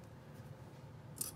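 Scissors snip once through the excess end of a zipper on a sewn pouch, a brief crisp cut near the end after quiet room tone.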